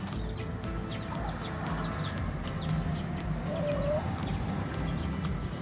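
Brahma chickens and other backyard fowl peck at watermelon outdoors, with steady soft clucks and chicken calls over a constant rustling farmyard bed and faint chirps of other birds nearby.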